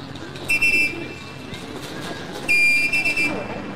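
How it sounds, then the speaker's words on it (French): A pigeon whistle on homing pigeons flying over Beijing gives two clear, steady high-pitched tones, the first short and the second longer, over a quiet hum. "Le bruit du sifflet aide les pigeons à retrouver leur domicile."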